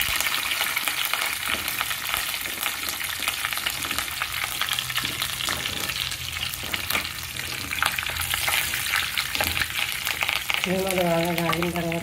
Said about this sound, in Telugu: ఎండుమిర్చి, వెల్లుల్లిపాయ వేసుకొని కరివేపాకు వేసుకోవాలి.